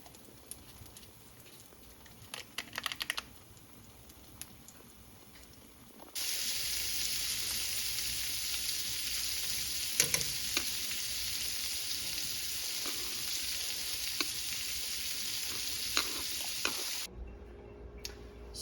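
Soft clinks and rustles, then a pot of budae-jjigae soup with seasoning bursts into a loud, steady bubbling hiss that runs for several seconds before cutting off abruptly.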